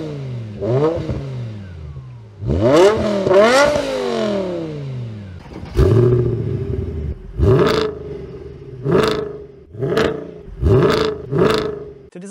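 Exhaust of a BMW E60 M5 or Mercedes W211 AMG with the M156 engine, revved up close: a couple of long rising and falling sweeps, then a rhythmic series of short, sharp throttle blips.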